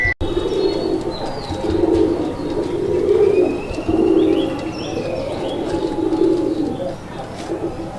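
A male Raj-golla pigeon at a pigeon farm cooing, a loud, close series of deep rolling coos in repeated bursts, with other birds chirping and whistling faintly in the background.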